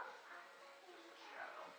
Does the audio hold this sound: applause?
no